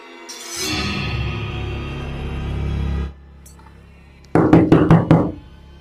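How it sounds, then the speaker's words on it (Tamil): Knocking on a door in a horror drama: a rapid series of about five sharp, loud knocks near the end, following a steady droning hum that cuts off a second earlier, with no talking. "ஏதோ கதவு தட்டுற சத்தம் கேட்கல?"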